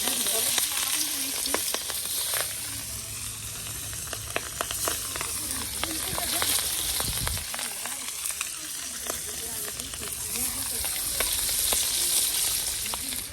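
Pabda fish curry with eggplant and potato sizzles steadily in a pan, a dense hissing fry with occasional stirring scrapes and pops, continuous and close.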